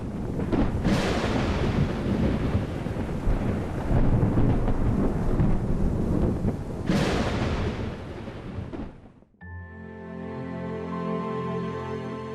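Thunder rolls across a dry sky over the Changtang Plateau, two long, loud rumbling peals that swell and fade before a musical passage takes over at the end.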